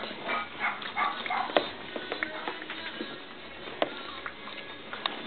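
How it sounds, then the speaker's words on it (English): Several puppies whimper, yip and bark in short scattered bursts, high-pitched and fairly close, with sharp little yelps punctuating a steady background of soft whining. "trying to get all Millie's puppies together in one place and to be washed"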